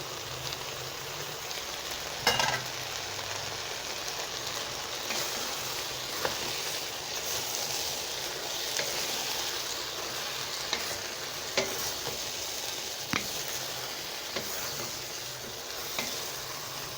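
Grated tomatoes for an okra tagine sizzle and crackle steadily in a hot pan, a continuous frying hiss with occasional sharper pops and stirring scrapes, close and even throughout with no talk.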